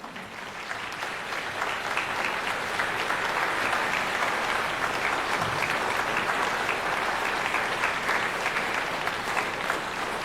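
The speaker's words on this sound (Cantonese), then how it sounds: "再一次俾掌聲。" Sustained audience applause fills a Christmas Eve charity concert hall, a steady dense wash of clapping from a large crowd that holds evenly for the full ten seconds.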